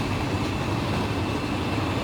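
Train rolling past a level crossing in the Run 8 train simulator game, a steady broadband rumble with a low-end roar, close and continuous with no talking.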